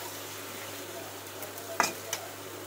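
Spicy pumpkin cooks with turmeric in a covered pan, giving off a quiet, steady sizzle. Two soft spatula scrapes and clinks come near the end.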